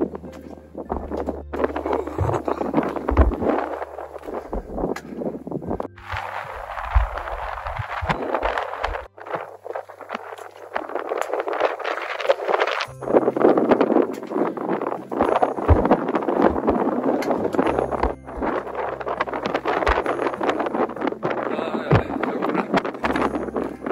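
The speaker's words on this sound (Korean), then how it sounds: "바람이 제법 세게 붑니다" Strong wind gusts buffet the microphone on the climb toward Birobong peak on Sobaeksan, a loud, rumbling roar that swells and eases over about twenty-four seconds.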